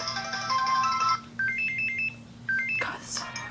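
A medieval-style melodic phone ringtone chimes in a steady series of bright tone phrases, with brief pauses and a busy background.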